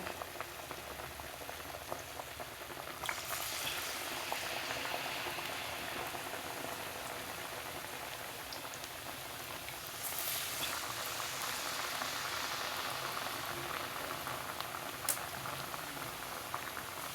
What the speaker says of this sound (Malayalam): എണ്ണയിൽ വെച്ചിട്ട് ഇങ്ങനെ എടുക്കുക എടുത്തിട്ട് ഇങ്ങനെ മുക്കിയിട്ട് ഇടുക ഒക്കെ പൊരിയട്ടെ